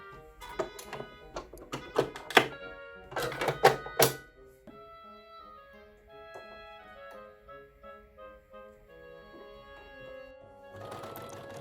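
An overlocker serges fabric edges in short, loud mechanical bursts during the first few seconds. A quieter stretch with soft tonal background follows, and another brief whir comes at the end.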